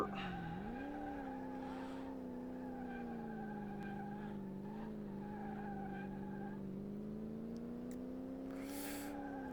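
A car in Car Mechanic Simulator VR slides out of control, its tires squealing in a long, wavering screech over a steady engine drone, with faint knocks scattered throughout.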